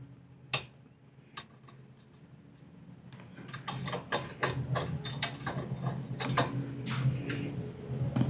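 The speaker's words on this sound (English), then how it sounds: "We'll tighten it down." A ratchet clicks in quick bursts while tightening a bolt on a Rascal GT Cruiser scooter, a few isolated clicks at first and then a faster, louder run of close metallic ticks.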